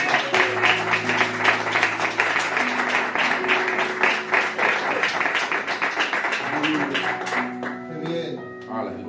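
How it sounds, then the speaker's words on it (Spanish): Church congregation clapping in applause to God after a sermon reading, rhythmic dense claps fading toward the end, with sustained musical tones and voices beneath. "¿Qué te parece si recibimos la palabra con un aplauso para Dios?"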